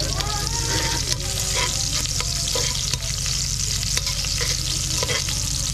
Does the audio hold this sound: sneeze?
no